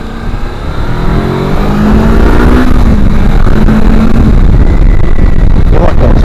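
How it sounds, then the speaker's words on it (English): A Kawasaki Versys X300 motorcycle engine revs with a sporty, high-strung note, loud and close, its pitch climbing and shifting through gears across several seconds of continuous, steady-volume engine roar. "if you like that sports bike engine sound, then yeah, I suppose it's got that too"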